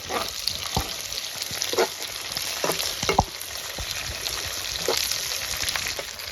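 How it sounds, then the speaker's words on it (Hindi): Red and green chilies frying in a pan for a Kashmiri-style fish dish, an intense steady sizzle with scattered pops and spatters and occasional scrapes from stirring. "ग्रीन चिलीज बिस्मिल्लाह करके इनको भी डाल लेंगे और फ्राई कर लेंगे"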